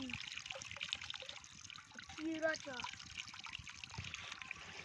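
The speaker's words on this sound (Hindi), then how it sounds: "खीरा गरम पानी" Hot water pours and trickles steadily in a continuous hiss, with people talking over it throughout.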